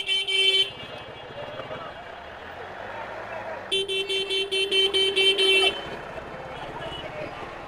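Car and motorbike horns blare through a street traffic jam on a hot day in Manikganj, Bangladesh, with one short honk, then a longer run of rapid pulsing toots over steady road noise.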